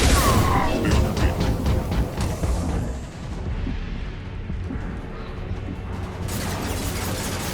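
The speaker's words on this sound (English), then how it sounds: "Watch out, flashbangs!" Flashbang grenades go off in the sci-fi shooter Mass Effect 2, a rapid series of sharp, loud bursts over the first few seconds that gives way to a lower lingering rumble.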